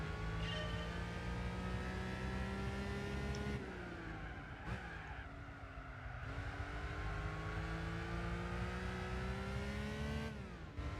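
In Gran Turismo 4, a BMW M3 CSL E46 engine howls at high revs, dropping sharply on gear changes or lifts and climbing again, with a brief tire scrub, loud and close with no talk.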